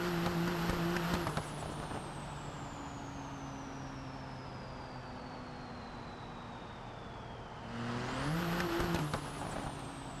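Car engine in BeamNG on a turbo six project build, revving up loudly, then holding a long steady falling drone as it coasts, then revving hard again, with a whining tone that rises and falls alongside.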